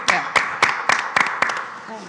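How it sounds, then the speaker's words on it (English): A few people clap close by at a live podcast recording during a film festival, seven or eight uneven, fairly loud claps in quick succession. "a round of applause for the audience"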